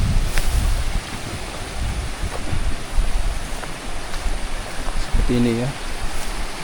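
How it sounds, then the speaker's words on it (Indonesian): A clear stream flows steadily beside rice fields in a village, a soft continuous babble of water with some wind buffeting the microphone, while a person speaks briefly over it. "Airnya tuh ngalir terus ya."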